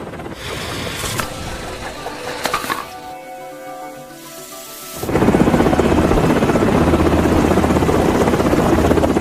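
Steady rhythmic chopping of an approaching pickup helicopter's rotors in an action movie, loud and close, which briefly thins out and then returns stronger and denser.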